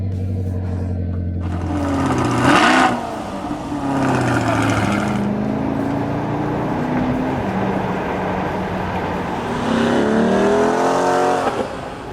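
A Corvette C8 sits close by as its engine revs hard in several bursts, each rising sharply in pitch through the gears and settling back into a loud, throaty roar with crackles between pulls.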